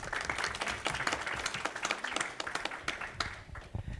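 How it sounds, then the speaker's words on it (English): Audience applause at an evening venture capital panel event, dense steady clapping from a crowd filling the whole stretch without a break. "Applause."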